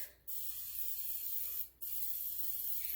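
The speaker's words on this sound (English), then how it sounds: "So we're just going to lightly spray these." A pump oil sprayer hisses in steady bursts, lightly coating chocolate donuts: a long spray, a brief pause, then another long spray, close and fairly loud.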